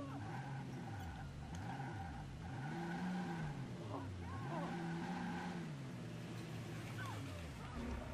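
A car engine in Watch Dogs drones and revs up and down continuously with occasional tire squeals, a steady synthetic motor tone, while voices occasionally talk over it.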